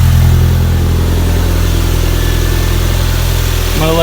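A 1991 Toyota MR2 Turbo idles steadily after an oil change, a close, loud, even engine hum that runs on without voices.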